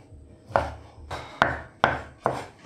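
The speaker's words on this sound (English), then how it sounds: "Now I'm gonna chop up my smoked belly pork or my bacon into tiny little cubes." Smoked belly pork bacon being chopped into small cubes with a knife on a board, five firm close chops at a slightly uneven pace, each sharp thud fading quickly, with no talking.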